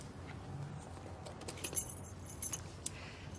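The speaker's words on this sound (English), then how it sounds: "give her the keys. Front pocket." A bunch of keys is handed over during a police scene, giving a few faint, light metallic jangles and clinks over a quiet indoor background.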